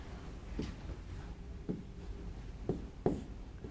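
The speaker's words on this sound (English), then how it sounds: "Write 47 times 23." A marker or chalk taps and scrapes on a board in a few short, separate strokes, close and fairly quiet, while numbers are written for a multiplication problem.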